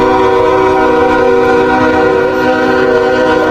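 A Koleje Mazowieckie electric train in the Roblox video game begins to pull away, giving a loud, continuous tonal electric hum and drone close up with no talking.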